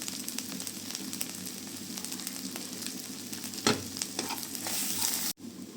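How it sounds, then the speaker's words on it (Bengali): Ginger and garlic paste sizzling in a hot pan, a steady close crackle of frying with stirring scrapes, one louder clatter near the end before the sizzle briefly cuts out. "এটা আমি একটু ভেজে নিব।"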